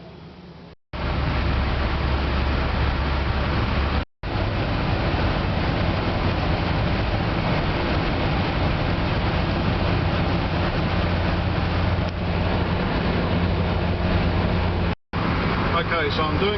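An Isuzu pickup with a manual gearbox cruises at highway speed on back roads, giving a continuous loud road and engine roar with tyre and wind noise and a few abrupt cuts.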